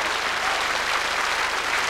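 A French television studio audience applauds Joan Jett in 1992 with loud, continuous, dense clapping throughout.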